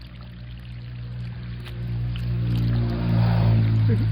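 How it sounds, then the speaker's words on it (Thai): Water from an opened tap pours steadily into an animal burrow outdoors, a continuous rushing flow that grows slightly louder, with a voice briefly audible near the end. "อาจจะเปิดน้ำซะอีกก่อนครับ"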